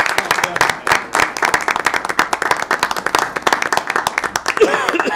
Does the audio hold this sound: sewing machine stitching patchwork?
no